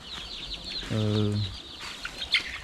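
Chickens in a drafty, open-sided coop on a cold night give a burst of low, harmonic clucking mid-clip, with faint chirps and rustling around it.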